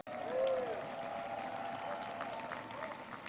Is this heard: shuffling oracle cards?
no